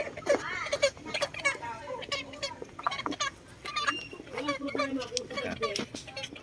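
Tornado hatch gamefowl, a rooster bred for the cockerel line, makes short throaty vocal calls close by, mixed in with someone talking over them.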